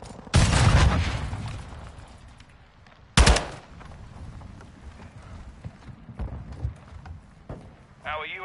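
Gunfire in a PS4 online shooter, two sharp loud bursts of rapid shots separated by a quieter stretch of game sounds and radio-style chatter.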